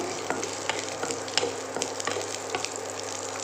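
Small onions sauté in hot oil for a brinjal and potato kuzhambu, giving a steady close sizzle broken by light, irregular spoon taps and stirring scrapes.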